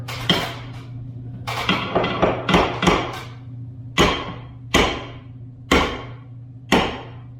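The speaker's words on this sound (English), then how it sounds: "now with the vice grips pinched on there, I can take a hammer" A hammer strikes metal vice grips roughly ten times, sharp ringing taps coming quickly at first and then spaced further apart, over a low steady hum.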